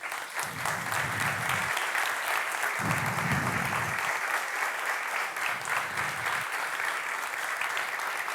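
An audience applauds steadily for the musician at the Premio Manolo de la Hoz event, a dense sustained wash of many hands clapping while a low voice speaks briefly over it at intervals.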